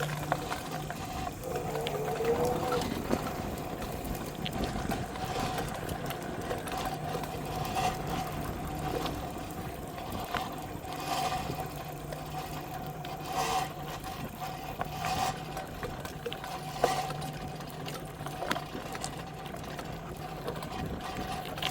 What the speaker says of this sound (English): I'm not really sure why the bike's so noisy